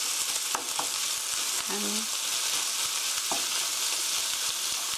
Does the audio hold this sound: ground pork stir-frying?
yes